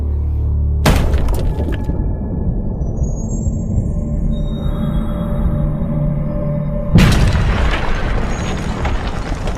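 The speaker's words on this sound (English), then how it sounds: "we can see just how much damage a heavy stone mace can inflict on the bones of a skull." A heavy stone mace strikes a skull with a sudden loud crack, and a second violent impact follows after several seconds of low rumbling resonance.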